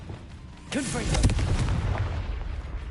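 A Confringo blasting spell goes off in Hogwarts Legacy, a single heavy booming explosion that rumbles and fades over a couple of seconds, with a voice briefly heard.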